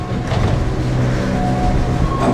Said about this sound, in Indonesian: ini KRL-nya melanjutkan perjalanannya kembali menuju ke stasiun akhir yaitu stasiun Duri